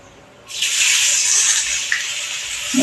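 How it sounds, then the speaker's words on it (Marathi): Water is poured into hot turmeric-and-sesame tempering in a pan, bursting into a loud, sustained sizzling hiss after a quiet start. "थोडंसं मी पाणी टाकणार आहे एक थेंब"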